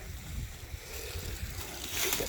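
Water gushes from a garden hose fed from a pond, a rushing, splashing flow that swells louder toward the end, heard up close outdoors.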